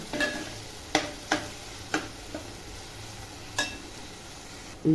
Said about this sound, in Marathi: आता टॅमॅटो टाकते टॅमॅटो पण चांगला असा परतून घ्यायचा